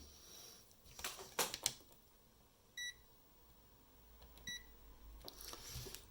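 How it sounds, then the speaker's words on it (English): A multimeter in continuity mode beeps while its probes are touched to the pins of an HDMI port on a dusty Xbox under repair, giving two short, clear tones apart from each other among quiet handling noise. "continuity mode is fine, which is a mode that beeps when 2 points meet"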